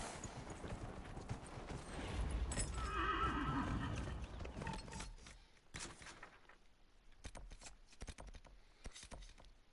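A horse in a PS4 video game whinnies loudly, with clip-clopping hooves under it, then a quieter stretch of scattered thumps and hoof sounds.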